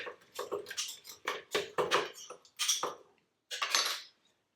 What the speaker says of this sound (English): They go into the food processor.